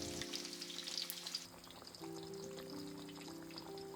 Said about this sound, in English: We deep fry them carefully not to overcook.